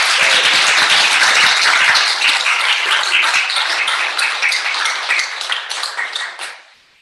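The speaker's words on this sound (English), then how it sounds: "One more round of applause for all of our staff." Sustained applause from a staff senate meeting audience honoring university staff, dense clapping filling the room for several seconds before tapering off near the end.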